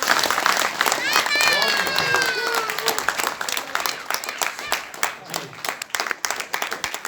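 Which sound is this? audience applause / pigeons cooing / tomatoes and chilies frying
audience applause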